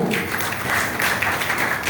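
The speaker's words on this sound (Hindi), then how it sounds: "एक बार मैडम जी के लिए जोरदार तालियां।" Audience applause for a woman at a business plan presentation, a dense, steady patter of many hands clapping at once, fairly close and continuous for a couple of seconds.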